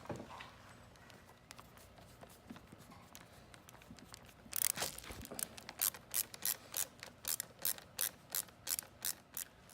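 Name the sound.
screws being driven to attach golf scooter headlight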